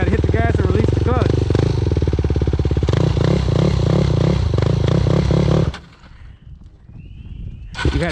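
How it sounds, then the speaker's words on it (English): A motorcycle engine runs loud and steady during wheelie practice, with a revving drone for several seconds, then cuts off abruptly to quiet before a brief rise near the end; voices talk over it. "You gotta hit the gas and release the clutch."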